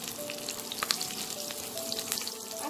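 Green chilies fry in leftover oil from frying fish, a bright crackling sizzle with scattered sharp pops, close and fairly soft, with no talking.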